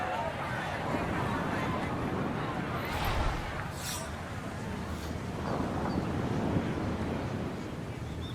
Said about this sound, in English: start to hear the crashing waves below